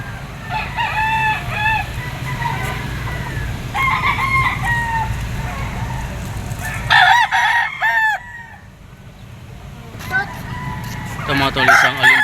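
Gamecock roosters crow over and over at a Padre Garcia, Batangas poultry market, loud and close, with clucking between the calls and a low crowd murmur underneath.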